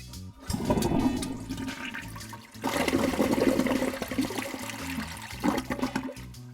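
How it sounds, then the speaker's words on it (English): A toilet flushes with a loud, steady rushing and gurgling of water that surges again midway and briefly near the end, with no talking. "flush the toilet"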